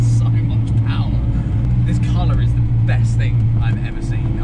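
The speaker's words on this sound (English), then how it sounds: "Driving a Tvr Sagaris, I cannot believe it" A TVR Sagaris sports car drives on a road, heard from inside as a steady, loud engine drone with road rumble. A voice talks quietly over it.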